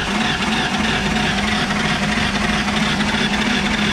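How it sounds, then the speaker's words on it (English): A Ford 351 Windsor stroker V8 being cranked in neutral with a suspected distributor gear fault, giving a steady, loud mechanical churning drone that runs unbroken for the whole stretch with no voices. "When you crank the motor over,"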